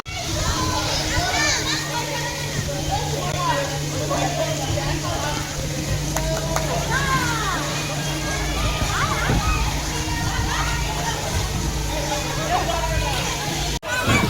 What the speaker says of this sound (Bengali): ওটা যখন ফিল হয়ে যাচ্ছে ওটা পুরো আপসাইড ডাউন হয়ে গিয়ে পুরো জলটা এখানে পড়ছে